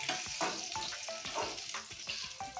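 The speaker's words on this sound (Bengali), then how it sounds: "আমার এই দেখুন মাছটা আমি অনেক সময় ধরে ভেজে নিয়েছি" Fish frying in hot oil in a pan, a dense continuous sizzle with rhythmic crackles and spatters heard up close, no talking.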